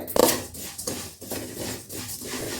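About 150 grams of cumin seeds lightly dry-roasted in a pan for sambar podi, with a spatula scraping and stirring in soft, repeated strokes after one sharper metallic clink at the start.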